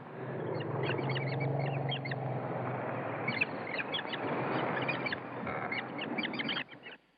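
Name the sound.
birds singing in a forest, sound effect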